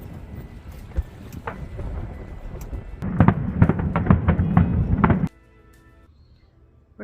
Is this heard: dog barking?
no